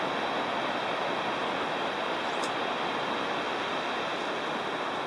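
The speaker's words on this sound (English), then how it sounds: "You can hear the river." A river rushing through the Swiss Alps, heard as a steady, even wash of water noise with no other sounds.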